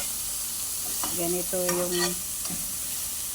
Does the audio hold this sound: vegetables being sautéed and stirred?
yes